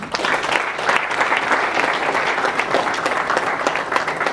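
A warm round of applause from the audience at the Radiate Rwanda executive director's speech honoring the organization and its partners: dense, steady clapping from many hands, loud and sustained throughout with no talk over it.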